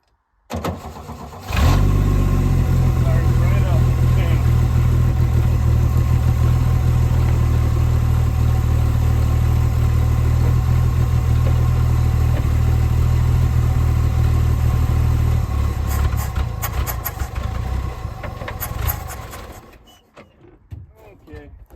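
A 1966 Chevy C10 shortbed pickup, unlicensed since 1979 and with a carburetor that barely takes throttle, cranks and fires, then idles loud and close with a steady rough rumble for most of the run before dying away.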